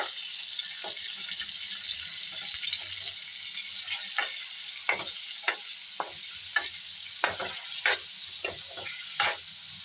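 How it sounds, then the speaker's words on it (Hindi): Chicken with ginger and garlic fries for achar gosht, a steady close sizzle of oil in a pan broken by regular sharp scrapes and clacks of stirring that grow more frequent toward the end; no one speaks. "और इसको अच्छी तरह से भून लेंगे"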